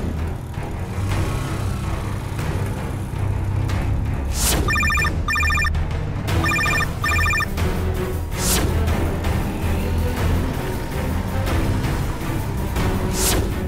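A phone rings with an incoming call: two bursts of rapid electronic ringtone pulses stand out over a dense music and ambient bed in a television drama scene.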